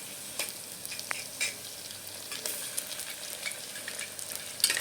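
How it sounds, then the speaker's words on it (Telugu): Three tablespoons of ginger garlic paste sizzle quietly in a pan of fried ingredients for tomato rice, a soft steady crackle broken by a few faint stirring scrapes. "ఇప్పుడు అల్లం వెల్లుల్లి పేస్ట్ ఒక 3 టేబుల్ స్పూన్స్ వేసుకుందాం"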